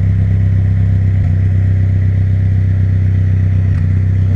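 Suzuki X90 engine running steadily at idle, burning off oil that leaked into the cylinders through the spark plug holes; a loud, continuous low rumble with slight clatter and no voices.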